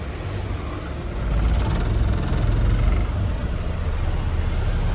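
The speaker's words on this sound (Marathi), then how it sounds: "आता गाडी वळून घेऊ इथं." A loaded truck turns around on a road, its engine rumbling low and steady and swelling slightly mid-turn, with a broad, fairly loud roadway noise and no speech.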